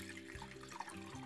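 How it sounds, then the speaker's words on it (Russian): Water runs steadily into a saucepan for a brief moment, a quiet continuous pour. "В сотейник наливаю воду."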